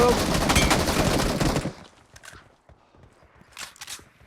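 Pistol gunfire from the PUBG Mobile battle game rattles in a dense, loud burst of rapid shots for the first second and a half, then gives way to scattered faint taps and two brief distant bursts.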